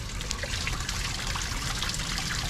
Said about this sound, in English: we're gonna have to flush that a few more times